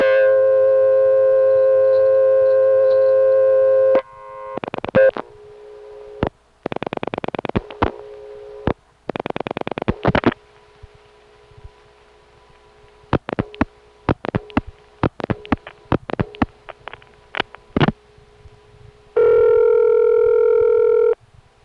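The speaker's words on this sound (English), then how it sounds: "Even though we're crossing a state boundary, we still dial only 7 digits." A 1970s rural telephone call dialed with seven digits, made across a state line near Oxford, New Jersey: a steady dial tone, then bursts of clicking dial pulses separated by pauses, ending in a returning tone.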